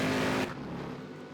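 Mercedes-Benz 300 SEL engine in Project Cars 2 during a one-make race at Silverstone Classic, a brief loud engine burst that drops off sharply as the car downshifts, then settles to a lower rumble.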